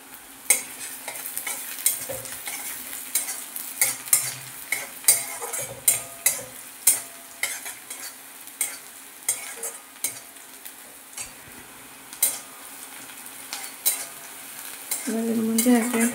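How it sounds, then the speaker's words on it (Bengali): Chopped garlic fries in a wok under a constant sizzle, as a spatula scrapes and knocks against the metal in a string of sharp, repeated strokes, with a brief burst of louder frying near the end. "রসুন কুচিটা দিয়ে দেবো"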